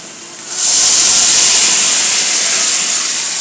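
Water hits a hot frying pan of oil where teasel gourd has been fried, setting off a sudden loud sizzling steam hiss about half a second in that stays strong and steady to the end.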